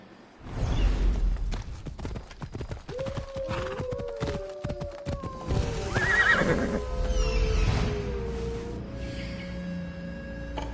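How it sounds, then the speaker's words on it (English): A horse in the video game Assassin's Creed Odyssey whinnies loudly in a long wavering call amid clopping hooves and rustling movement nearby. "Looks like a sturdy horse."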